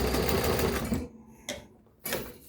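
Austech SK-2BL20 long-arm heavy-duty walking foot sewing machine runs a steady fast stitch for about a second, then stops, followed by two short separate bursts of stitching, close and loud with no voices.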